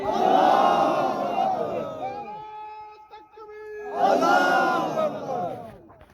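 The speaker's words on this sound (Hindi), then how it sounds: "हम एक ही नारा लगाएंगे, नारा तकबीर" A crowd at a political rally roars a Takbeer slogan in two loud collective shouts, each swelling and fading, with a brief lull between them.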